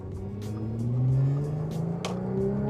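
A supercharged 400hp Audi S4 pulls along the road, its engine droning steadily and rising in pitch as it accelerates, with a few faint clicks and knocks from inside the cabin.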